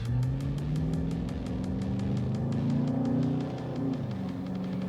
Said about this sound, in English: It doesn't have that big of a whine from the Hemi as much as I thought, but it's quick